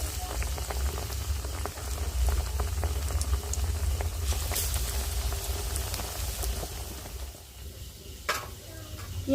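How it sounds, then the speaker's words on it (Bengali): Onion fritters (piyaji) deep-frying in oil; a steady, dense bubbling crackle like light rain, close and continuous, with occasional sharper pops. "ওই একই রকম ভাবে আমি সব পেঁয়াজগুলো ভেজে নেব"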